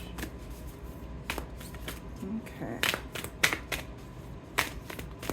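Tarot cards are shuffled in soft, scattered riffles and taps, quiet and close, with a brief spoken word.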